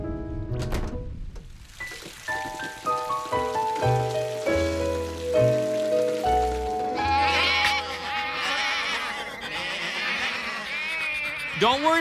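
Sheep bleat in a Curious George cartoon farm scene, a series of wavering animal calls over a musical background, loud and close.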